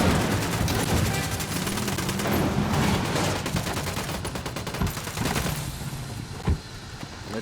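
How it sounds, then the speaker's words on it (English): Sustained automatic gunfire in the video game Ghost Recon Wildlands, loud dense bursts of rapid shots rolling together for several seconds, then thinning out to a few scattered reports. "Open fire."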